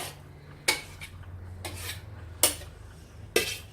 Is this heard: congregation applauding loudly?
no